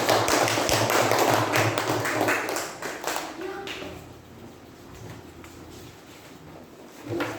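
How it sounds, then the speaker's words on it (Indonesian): A burst of clapping from a group, dense and lively at first, then fading away within a few seconds into quieter room sound. "Kasih dulu tepuk tangan teman-teman."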